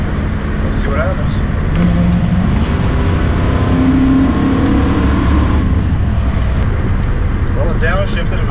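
A Mopar car drives along after a shifter cable adjustment, its engine droning steadily with a rising rev and a delayed downshift partway through; a voice talks over the engine noise.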